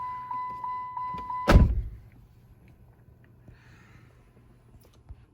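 A Dodge Charger police car sounds a series of evenly spaced warning chimes, then its door gives a single solid thunk, followed by quiet cabin hush with faint clicks.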